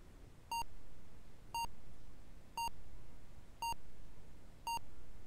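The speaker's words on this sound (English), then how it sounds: "I love that sense of travel, the takeoff beeps." The Apple II game Space plays its spaceship takeoff sequence as five evenly spaced electronic beeps, about one per second, each a short clear tone over a faint hiss.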